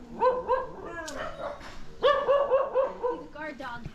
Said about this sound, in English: we're now in a barking contest.